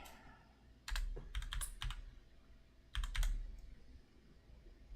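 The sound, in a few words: typing on a computer keyboard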